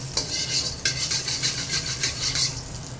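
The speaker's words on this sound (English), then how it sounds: "I would like to add a bit more oil." Loud, steady sizzle of a hot pan after seared vegetables come out and oil is added, with scraping stirs and a couple of sharp metal clinks against the pan, close and continuous.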